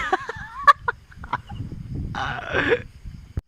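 Chickens cluck and squawk nearby in short, irregular bursts, with one longer raspy call in the middle.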